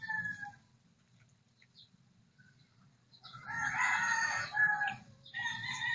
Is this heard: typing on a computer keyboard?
no